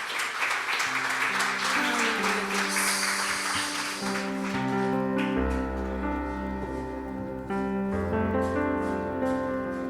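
Congregation applause during a church worship service, a broad clatter of many hands that gives way to sustained keyboard and instrumental music swelling underneath, the clapping fading as the tones take over.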